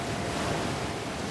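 Ocean surf breaking at Windansea Beach in San Diego, a loud, dense roar of crashing waves with wind noise, continuous and close, no voices.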